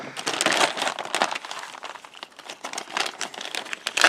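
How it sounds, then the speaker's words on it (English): A plastic parts package for a FanHome Enterprise D build kit is cut open, with close crinkling and rustling plastic in uneven bursts throughout. "Cut this package."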